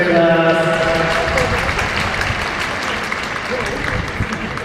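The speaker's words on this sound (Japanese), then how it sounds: "どうぞ拍手でお送りください。" A crowd at Suzuka Circuit applauds as riders head out for a WGP250 demo run, sustained clapping at a distance while a voice speaks over the start and a steady tone fades beneath.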